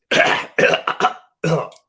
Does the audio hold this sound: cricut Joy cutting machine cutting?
no